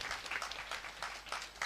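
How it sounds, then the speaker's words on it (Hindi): Quiet audience applause at a Ramayana recitation gathering, a soft patter of many hands clapping in uneven bursts, distant and low in level. "ये महोदय के लिए एक बार ताली बजा दिया जाए अपने छत्र सिंह ठाकुर"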